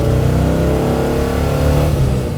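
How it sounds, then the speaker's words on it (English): A 1955 Chevrolet Bel Air engine roars loudly up close, revving hard in a steady, throaty burst with no one speaking. "If you can hear it now, the motor sounds good."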